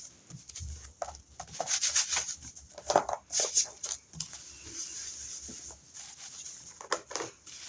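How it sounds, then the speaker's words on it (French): Wet wipes rubbing and scrubbing over a mixed-media craft surface while preparing a background, giving soft, close, uneven swishing strokes at low volume with faint crinkles between them. "c'est des lingettes humides, on s'embête pas"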